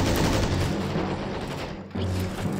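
Dense, continuous gunfire from a machine-gun squad in the WWII strategy game Men of War: Assault Squad 2, loud and sustained with overlapping bursts and booms and a brief dip before it surges again.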